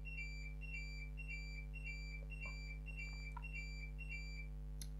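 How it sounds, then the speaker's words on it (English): A Tamagotchi virtual pet toy gives repeated short electronic beeps in a steady rhythm, faint against a constant low electrical hum, with a few soft clicks near the end. "I've just fixed the Tamagotchi. And it's beeping in the background"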